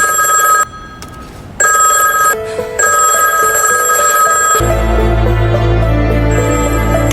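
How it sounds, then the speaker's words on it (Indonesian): A telephone rings in a film scene, shrill electronic bursts broken by short gaps, then a low droning score swells underneath as the ringing continues. "Telepon pun berbunyi, Rara mencoba menjawabnya"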